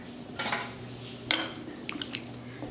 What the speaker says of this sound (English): I'll just mix this around.